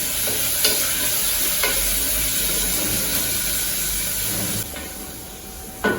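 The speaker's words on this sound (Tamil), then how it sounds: "இப்போ இந்த ஃப்ரோசன் பண்ணி வேக வச்சுக்கோம் நானும் இதில் போட்டுக்கிறேன் இதுவும் ஒரு டூ மினிட்ஸ் அப்படியே வதக்கிடுவோம்" Frozen corn and capsicum sautéing in a pressure cooker for a one-pot corn capsicum pulao, giving a steady close sizzle and frying hiss throughout with a couple of stirring knocks, easing slightly near the end.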